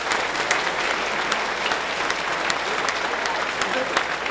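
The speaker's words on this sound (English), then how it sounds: "Mary Wilson, let's give her another round of applause." Audience applause at a ceremony marking completion of the Strong Museum of Play's $75 million project, a steady dense clapping from a large crowd, even and sustained throughout.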